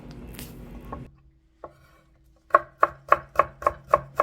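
A knife cuts a carrot into thin julienne strips on a board, a steady run of crisp, close, evenly spaced chops after a brief quiet shuffle at the start.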